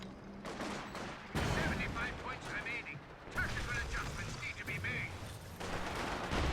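Infantry gun shots from the Company of Heroes 2 war game: heavy booming blasts and scattered gunfire in a busy battle soundscape, with a voice talking over parts of it.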